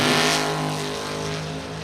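A Ford Thunderbird and a Chevrolet Corvette race at a drag strip, producing a loud, sustained engine roar with strong harmonic tones that fades gradually as the cars pull away.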